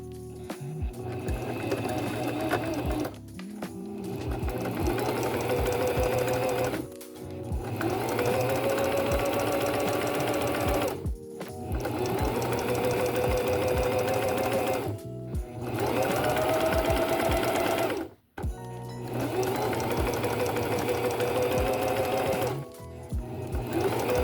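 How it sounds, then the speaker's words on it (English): A sewing machine stitches a sock tube in long steady runs of rapid mechanical whirring, stopping briefly every few seconds before starting again, close and clear with no talk. "So I'm gonna get started on sewing this and we'll see how we go."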